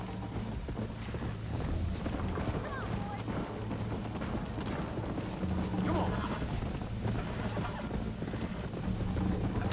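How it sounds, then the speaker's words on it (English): Horse hooves clop in the video game Red Dead Redemption, a continuous rhythmic patter of a horse moving along steadily, mixed with other game sounds and a voice talking over it. "Look at my horse. My horse is amazing."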